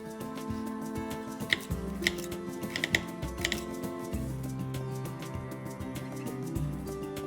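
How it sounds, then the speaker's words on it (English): A knife dicing sweet potato sticks on a cutting board, with quick, crisp taps and chops landing in an irregular rhythm, close and moderately quiet, without any speech. "In the following step, we dice the sweet potato sticks."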